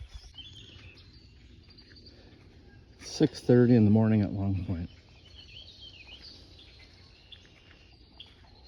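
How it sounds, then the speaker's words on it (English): Birds chirp and call faintly and steadily in the background at dawn on the beach at Long Point, Ontario, while someone speaks briefly over them in the middle. "Hope the noise canceling doesn't cut out all the birds"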